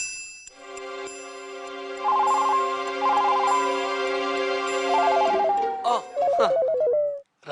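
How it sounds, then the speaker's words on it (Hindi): A phone ringing with a repeating electronic ringtone melody, loud and close, in a Hindi TV comedy scene, with faint background sound before the ring starts. "राजू का फोन है।"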